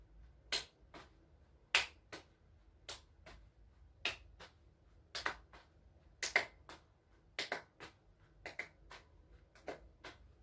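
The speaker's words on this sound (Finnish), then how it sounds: "niin tehdään taputus tai tuplataputus välissä" Sharp hand claps are made between juggling throws in a children's circus training session, a quiet irregular series of about fifteen crisp slaps, some in quick pairs, over near silence with no voices.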